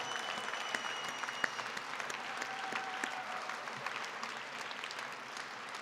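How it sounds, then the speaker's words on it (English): A rally crowd at the Caring Force Rally claps for legislators, a fairly faint, even wash of applause with a few distinct claps poking through. "Let's give those folks a round of applause and a big thanks."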